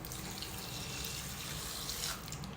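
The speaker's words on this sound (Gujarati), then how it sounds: "અને થોડા પ્રમાણમાં પાણી એડ કરી દઈશું." Water pours steadily into a pressure cooker holding broccoli and almond soup ingredients with black peppercorns, a continuous close, even splashing stream lasting throughout with no voices.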